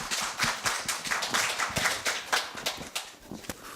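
An audience at a middle-school speaking festival applauds a student speaker. The clapping is dense and steady, fills the room and goes on for several seconds, with no voices over it.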